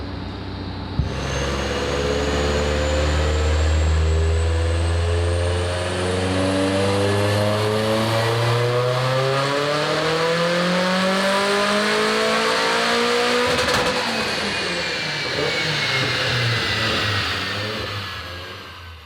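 A race car engine on a dyno at 1.6 bar boost revs steadily upward to 7,000 rpm, its pitch climbing for many seconds with a loud, sustained roar before dropping off near the end.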